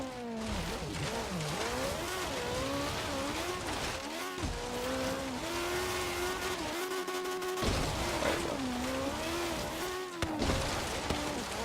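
Caterham Superlight rallycross build racing in Forza Horizon 3, its engine note rising and falling steadily through gear changes and corners, loud and continuous with brief dips between shifts.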